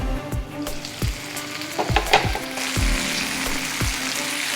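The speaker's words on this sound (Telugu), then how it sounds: "ఇవన్నీ మూడు నుంచి నాలుగు నిమిషాల వరకు ఉడికించుకోవాలి మీడియం ఫ్లేమ్లో పెట్టుకొని ఫ్రై చేసుకోవాలి" Potato, capsicum and tomato pieces frying in a pan over a medium flame: a continuous close sizzle broken by regular scraping stir strokes, with no talking.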